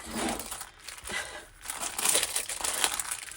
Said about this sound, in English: crinkly piece of plastic